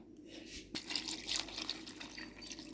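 Meat broth poured over okroshka made with chopped cucumbers gives a steady, close splashing trickle of liquid that swells slightly midway and continues without pause, with no talking.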